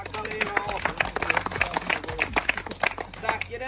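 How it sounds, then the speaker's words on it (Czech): An audience at an autumn carp-fishing competition weigh-in claps in a brief round of rapid, crackling applause, mixed with voices talking. "Tak ještě jednou potlesk"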